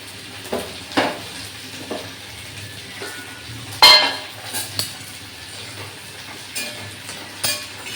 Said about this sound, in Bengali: ভাজা উচ্ছেগুলো ভালো করে মিশিয়ে দিলাম